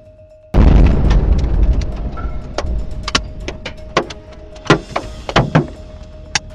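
Explosion with a fireball in Dnipro near a school and medical facility: a sudden loud boom bursts out of silence and rolls into a heavy rumble that slowly fades, followed by scattered sharp clicks and knocks.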